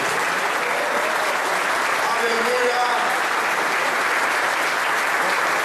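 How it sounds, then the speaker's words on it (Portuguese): A church congregation claps steadily and loudly throughout, with a voice calling out over the applause. "eu quero que vocês aplaudam ao Senhor pela vida do pastor Paulo"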